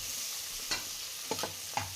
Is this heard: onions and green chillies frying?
yes